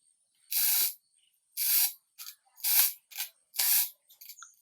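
A glass bottle being scored by a bottle cutter makes a series of bright, hissing scratches: five long strokes and several shorter ones, close and fairly loud, separated by near-silence.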